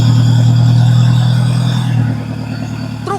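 A truck engine drones steadily at close range with a low, even hum as the vehicle drives carefully along a rough road, then the note drops and eases off near the end, with no talk.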